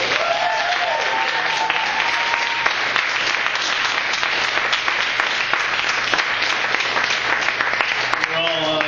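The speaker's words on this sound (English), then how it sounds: "everyone give a round of applause to everyone who competed tonight" An audience claps for the night's competitors in a loud, sustained round of applause that fills the whole stretch, with a few voices mixed in beneath the clapping.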